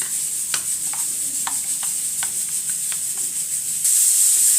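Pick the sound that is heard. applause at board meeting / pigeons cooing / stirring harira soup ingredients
stirring harira soup ingredients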